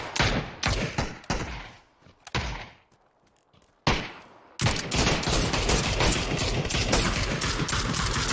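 Shots from an SLR rifle in PUBG team deathmatch ring out as a run of sharp, loud cracks in quick succession, then a brief lull, another single crack, and a dense stretch of continuous close firing and noise.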